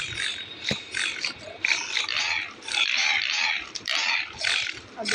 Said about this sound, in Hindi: देखो जंगली सूअर